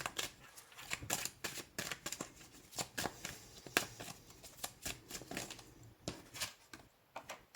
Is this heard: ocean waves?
no